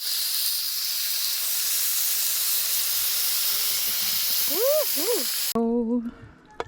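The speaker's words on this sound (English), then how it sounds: "the black stone is getting nice and hot because we are gonna sear these" Steak sears on a hot Blackstone griddle at a spring campsite, giving off a steady loud hiss that cuts off abruptly, with a brief voice sounding near the end.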